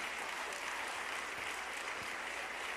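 Congregation applauding in a church, a steady broadband wash of many hands clapping at moderate, distant level with no talking.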